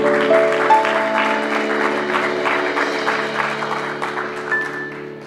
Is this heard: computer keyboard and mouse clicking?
no